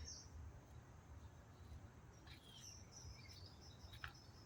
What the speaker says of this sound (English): Little birds chirping.